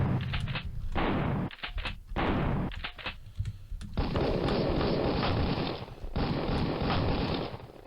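A Tommy gun fires in a video game set at the Conway estate. Several loud, rapid bursts of automatic fire are separated by short gaps, and the last two bursts run long and sustained.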